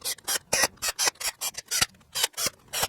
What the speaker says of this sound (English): I'm just going to tighten these down real quick.